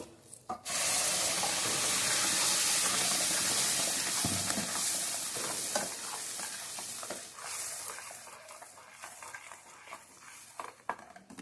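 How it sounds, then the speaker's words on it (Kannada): Freshly ground masala hits the hot pan for a pudina-coriander paneer gravy, starting with a loud sizzling burst that gradually softens. Stirring scrapes and clatter run on toward the end. "ಈಗ ಮಸಾಲೆ ರುಬ್ಕೊಂಡಿದ್ದೀವಲ್ಲ, ಮಸಾಲೆ ಹಾಕ್ಕೊಬೇಕು"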